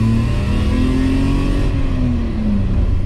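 A BMW E34 535i engine revving up into its power band, a loud, continuous rising engine roar from inside the car with a steadily climbing pitch.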